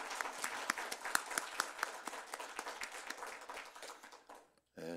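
A church congregation claps at a Sunday worship service, a lively burst of many hands with distinct sharp claps, fading out near the end, with a little speech mixed in.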